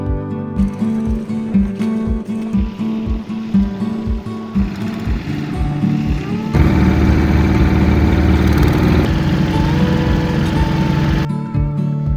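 A farm tractor's engine chugs steadily up close on Japan's largest tidal flat, its rhythmic pulsing turning into a louder, denser roar partway through, with no talk over it.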